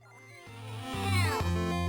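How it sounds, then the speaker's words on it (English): A cat in The Edge of Allegoria meows in a short run of rising and falling mews, close and clear, with no talk over it. "It's a cat. What do you expect?"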